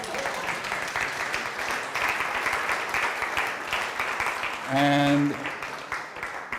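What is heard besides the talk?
audience clapping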